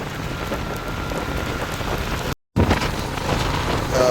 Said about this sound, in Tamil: காற்றோட கூடிய மழை வந்து பெய்கிறது